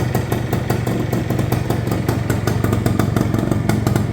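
A 1975 Kawasaki F7 175 two-stroke vintage enduro motorcycle idles loudly and close, its engine putting out a fast, steady, slightly uneven popping beat with no talking over it.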